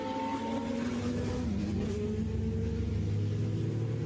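Formula 1 cars race down the Hangar Straight, a distant, muffled engine drone that rises and falls in pitch as the cars pass, heard as a broadcast without any voice over it.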